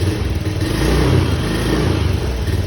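Honda Beat FI scooter engine revving up close, a steady loud mechanical drone with a rough, uneven sputter from a misfiring fault, no voices.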